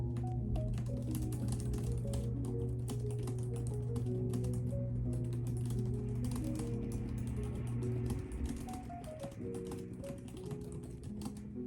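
Keys clatter on a keyboard during novel writing, a quick irregular run of soft clicks over a sustained low musical tone that drops away partway through, with no voices.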